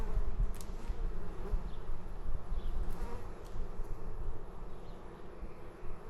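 Honey bees buzz in a steady, dense drone around an opened hive, close and continuous with no talk.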